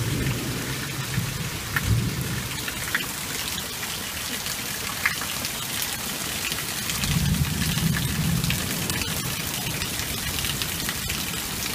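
Steady heavy rain pours through a nighttime thunderstorm with lightning, while deep thunder rolls in twice, near the start and again later, under the constant patter.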